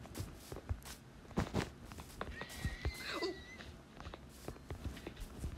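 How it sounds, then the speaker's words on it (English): A horse whinnies faintly in the middle, a brief wavering call that rises and falls over scattered footstep-like thumps and low background noise. "Oh, there's a horse in here."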